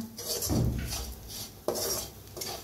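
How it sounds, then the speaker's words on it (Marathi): Spice masala is roasted in a pan as a spatula scrapes and knocks against the metal in a few close, brisk strokes, with short pauses between them. "1 मिनिटभर असं जरा भाजून घ्यायचा मसाला"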